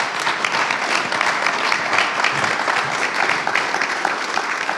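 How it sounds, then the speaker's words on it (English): An audience at a conference panel on cannabis cultivation in Europe claps in steady, dense applause that holds evenly throughout, close and fairly loud with no voices over it. "Let's have a warm round of applause before we open the floor questions."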